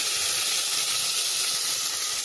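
Fried coconut seasoning hits cooked rabbit in a Kerala coconut fry, giving a loud, continuous sizzle and steamy hiss up close with no voices.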